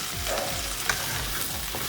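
Okra (bhindi) sautéing on a high flame with turmeric and lemon juice, a steady close sizzle and fry with soft stirring scrapes and a sharp clink partway through.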